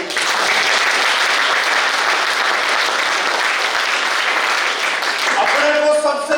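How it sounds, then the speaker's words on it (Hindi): A large audience at an NSS college motivation session claps loudly and continuously, and a voice comes in as the clapping ends. "या जोरदार ताली भी बजाएंगे।"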